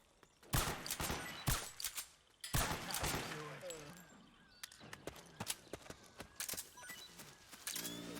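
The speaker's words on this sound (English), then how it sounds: "Why are you guys shooting at me?" Gunfire in Metal Gear Solid 4 cracks out in several sharp bursts and single shots, loud and close, with a dense volley around the middle and scattered shots afterward, while a voice talks at times.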